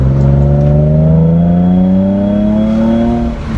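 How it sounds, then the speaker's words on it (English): A 2003 Nissan 350Z with nearly 200,000 miles being driven, its engine droning loud and close from inside the car, pitch climbing steadily as it accelerates, with no talk. "now I'm actually driving this Z"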